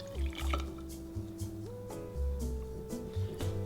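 An Old Fashioned whiskey cocktail is poured over a large ice ball in a glass, giving close, soft liquid trickles and splashes in short bursts against a low background hum.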